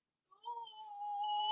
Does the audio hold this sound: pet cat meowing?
yes